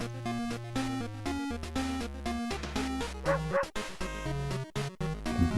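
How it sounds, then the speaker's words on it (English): A dog barking in the horror video game World of Horror, a string of short stylized yips and woofs over a continuous melodic game music track. "let's visit the dog real quick"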